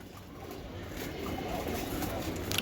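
Giribaj flying pigeons coo in a soft, unbroken low murmur that swells slightly over a couple of seconds, with no talking.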